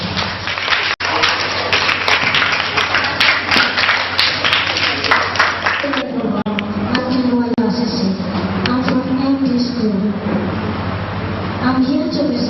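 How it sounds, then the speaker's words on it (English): Audience applause welcoming a student presenter at a school activity on mineral exploitation, dense clapping for about six seconds before fading under a voice speaking over steady background hum. "Let's give him a round of applause"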